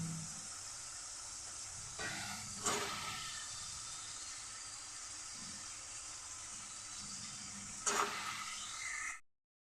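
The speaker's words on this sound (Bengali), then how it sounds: "মশলাটা আমার ভাজা হয়ে গেছে, এখন আমি সবজিগুলি দিয়ে দেব।" Vegetables, including Malabar spinach with a fish head, go into a pan of fried spices and sizzle with a steady close hiss, with two brief louder bursts as they are added and stirred, then fall silent.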